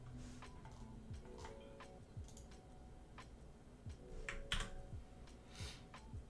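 Computer keyboard keys pressed in a quiet room, including shift and tab, while coding in the Godot game engine: scattered soft clicks and taps come at an uneven pace, faint and close, with no talking.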